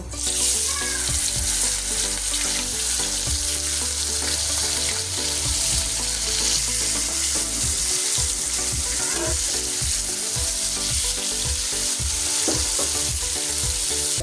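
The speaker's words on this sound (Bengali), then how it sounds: "যে তেলটা হয়ে গেছে, এখন মাছটা দিয়ে দিব।" Hilsa fish dropped into hot oil and frying hard, a loud, dense, steady sizzle that runs unbroken throughout, with occasional clicks and knocks of utensils close by.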